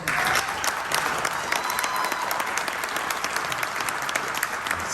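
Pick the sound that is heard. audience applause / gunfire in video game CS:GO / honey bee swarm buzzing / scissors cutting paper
audience applause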